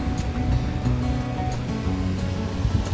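Loud, continuous rush of water gushing from a sluice gate in Cherbourg, pouring and churning nearby, a dense roar that stays steady without pause.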